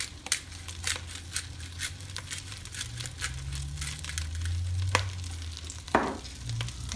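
Brussels sprouts fry in a pan with salt and pepper, giving a steady close sizzle broken by small sharp pops and crackles, over a low hum, with no voices.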